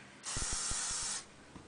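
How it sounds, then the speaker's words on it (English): A single steady burst of hairspray hisses onto freshly curled hair for about a second, close and even, with a few soft clicks from the can around it. "I'm just going to spray it with some hairspray"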